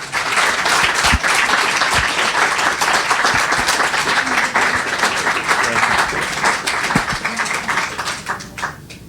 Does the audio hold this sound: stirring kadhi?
no